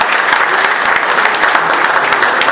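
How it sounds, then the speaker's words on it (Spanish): An audience at a hospital construction launch in Tamazula gives loud, sustained applause, dense overlapping clapping from many hands that stays even and close throughout. "Pedimos un fuerte aplauso en este momento."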